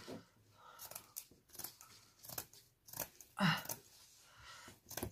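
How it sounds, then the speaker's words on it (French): Scissors snip through latch-hook canvas beside the knotted squares, a series of separate crisp crunchy cuts spaced about half a second to a second apart, close and fairly quiet with no talking. "Je coupe tout en faisant attention de ne pas couper les carreaux où il y a les nœuds"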